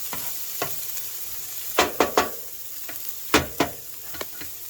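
Onions and jalapenos sizzle on a flat griddle under a steady fry hiss, while a metal spatula scrapes and taps across the surface in several sharp clustered strokes, close and clear, with no talk.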